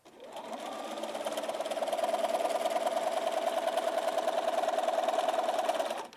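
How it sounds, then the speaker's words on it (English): A sewing machine runs steadily, stitching a quilt seam a scant quarter inch from a drawn line. The motor hums in a continuous mid-pitched drone that stays fairly quiet and close for several seconds, without talk. "sew a scant 1/4 inch from the line I drew"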